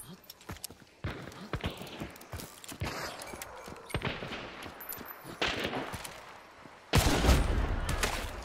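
Gunfire rings out at a video game shooting range in rapid bursts and volleys that rise and fall, ending in a loud sustained stretch, with a person talking over parts of it.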